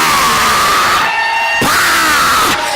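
A church congregation shouting and cheering together during a service on the Ascension of Jesus, a loud continuous crowd roar with shrill raised voices rising above it.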